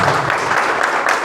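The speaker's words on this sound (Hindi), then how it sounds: "ताली चाहिए ना," A seminar audience at a Microd Digital training session breaks into a short, loud burst of applause. The clapping is quick and close, lasting only a moment.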